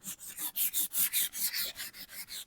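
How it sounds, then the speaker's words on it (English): Painted furniture is distressed by hand with sandpaper in quick back-and-forth strokes, about a dozen even rasping rubs in a steady rhythm, close and clear with no voice. "So basically what I'm doing is just distressing a little bit"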